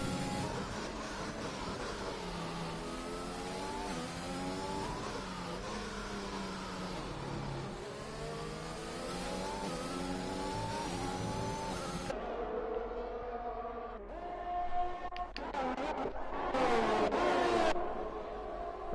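McLaren and Ferrari race cars in a sim racing game at a British circuit, a continuous whining engine note rising and falling with shifts and revs, steady and close, ending in a louder burst of acceleration.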